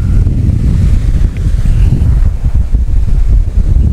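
Large ocean waves breaking on a California beach in strong wind, a constant heavy low rumble of surf with gusty wind buffeting the microphone throughout, loud and close.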